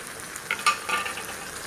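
Mushrooms fry in oil with softened tomato for a mushroom curry, giving a close, steady hiss of sizzling with a few brief crackles and a light stir partway through.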